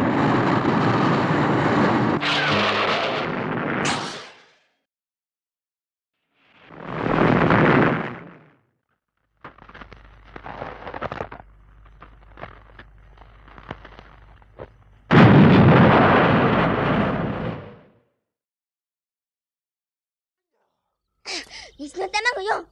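A weapon fires and explosions follow in a Japanese tokusatsu TV drama, with several loud, sustained roaring bursts separated by silences and a patch of quieter crackling debris in between.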